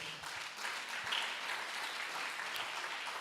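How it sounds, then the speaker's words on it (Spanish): A church congregation applauds together, a dense steady wash of clapping from a crowd in a hall, sustained at moderate loudness throughout. "denle un fuerte aplauso al Señor."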